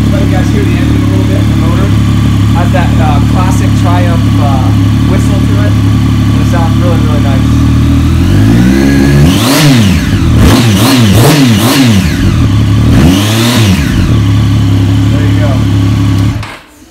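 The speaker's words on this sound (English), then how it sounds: "So let you guys hear the engine a little bit, the motor." A 2017 Triumph Daytona 675R motorcycle engine idles loudly up close with its whistle, then revs up and down repeatedly in rising and falling sweeps before cutting off.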